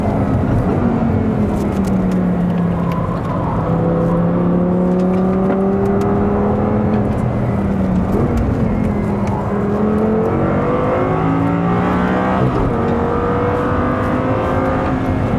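A car at full throttle on the Nordschleife, its engine note climbing and shifting steadily through gears for the whole stretch, loud and close with no talk over it.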